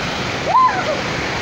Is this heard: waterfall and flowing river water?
yes